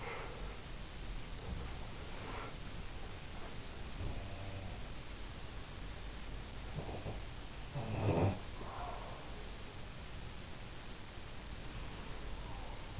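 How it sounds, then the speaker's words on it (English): A person snores in slow, rough, nasal breaths, mostly faint against a hissy background, with one louder, harsher snort-like snore standing out partway through. "Notice the loud snoring noises."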